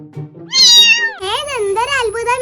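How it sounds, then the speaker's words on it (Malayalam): A cat lets out two drawn-out, rising-and-falling meows, loud and close, the second one longer and wavering, after a few soft murmurs. "cat cat cat"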